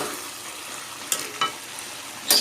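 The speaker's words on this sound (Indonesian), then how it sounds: "Sebentar saja masak daun melinjonya." Melinjo leaves fry in a pan with a steady, close sizzle while they are cooked for fried chicken. A few short scraping stirs cut through the hiss, and nobody speaks.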